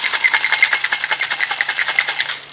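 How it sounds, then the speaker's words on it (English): A cocktail shaker tin shaken hard with raspberry liqueur and ice inside, a fast steady rattling rhythm of repeated sloshing strokes, close and loud, fading out at the end. "we're going to pop that in there, shake it real good"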